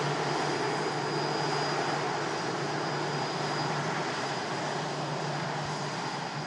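A Jet2 Boeing 757 at Manchester Airport gives off a loud, continuous engine roar with a low steady hum underneath, unbroken and without voices.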